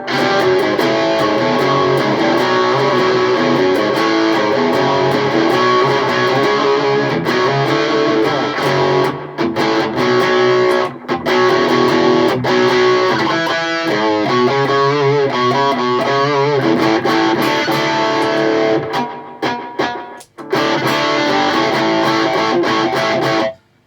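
Heavily overdriven electric guitar through a pedalboard with an overdrive pedal boosting gain, thick distortion and effects, sustained chords and riffs played loudly, with a few brief pauses and abrupt stops.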